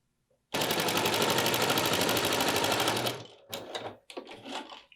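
A sewing machine stitches along the edge of a scrappy fabric pot holder in one fast, continuous run of close, rapid needle clatter, then stops and gives a few short bursts.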